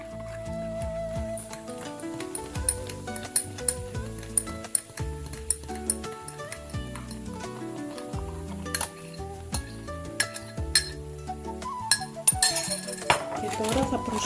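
Baking soda stirred into orange juice in a bowl, with a spoon clinking and scraping steadily against the sides throughout, close and fairly loud, with no speech.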